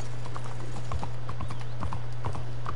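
Hooves clip-clop in a quick, uneven rhythm as a horse runs in Red Dead Redemption 2, the thuds sitting over a steady low hum of game sound.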